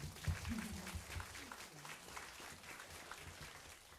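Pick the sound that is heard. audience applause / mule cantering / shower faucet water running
audience applause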